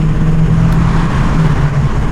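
A first- or second-generation VW Golf GTI pulls hard under acceleration, its engine a steady close-up drone with road and tyre noise mixed in, no voices.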